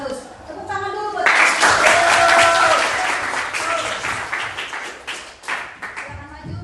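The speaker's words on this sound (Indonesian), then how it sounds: "Tepuk tangan dulu buat." Classmates clap for a presenting group in a classroom, a burst of lively applause that swells after a brief voice, holds strongly, then thins into scattered claps with some chatter.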